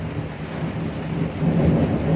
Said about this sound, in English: There it is. That was just lightning.